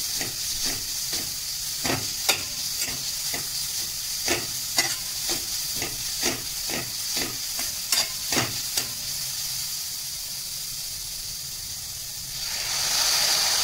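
Grated beetroot fries in two spoons of oil in a kadai, a steady close sizzle broken by a dozen or so sharp scraping stirs in an uneven rhythm, then the hiss swells louder near the end.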